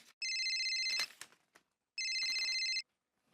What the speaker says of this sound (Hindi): मैं जेठा को फोन करता हूँ।